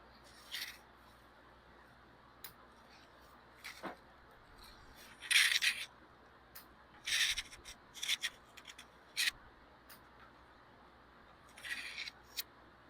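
Pruning shears cutting back a branch of a deciduous bonsai tree during June development work: a scattered series of crisp metallic snips, some single and some in quick clusters, close and clear over a quiet background hiss, with no talking.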